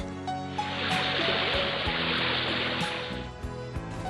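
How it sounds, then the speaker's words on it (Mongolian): Steady rushing water of a river flows continuously, a broad wash of noise, with faint tonal sounds and music underneath. "голын урсгал,"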